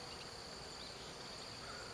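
Honey bees in a small, understrength nuc hive hum with a steady, continuous drone that holds at an even level throughout, close up and with no voices.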